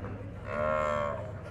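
Cattle at the traditional São Bento do Una cattle fair in Pernambuco, one steer giving a single drawn-out moo of about a second, fairly near, over a steady crowd murmur of the livestock market.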